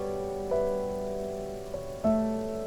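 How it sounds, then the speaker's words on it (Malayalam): Heavy rain patters outside as a steady wash of noise, with a sustained tonal hum layered over it and two soft knocks, and no voices. "പുറത്ത് നല്ല മഴയല്ലേ."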